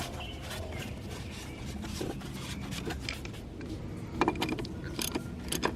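BMW 335d oil filter housing tightened with a wrench, close ratcheting clicks and metallic mechanical rattles in short irregular bursts, growing louder near the end.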